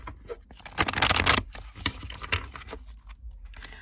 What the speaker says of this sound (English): let's shuffle 3 times.